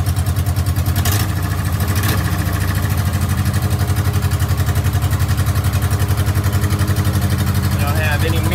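A barn-find Austin-Healey Sprite engine runs loud and steady at a close, even idle, with a couple of sharp clatters early on.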